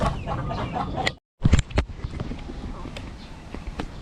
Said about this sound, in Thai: นกไก่มันขัน ตรงนี้แหละ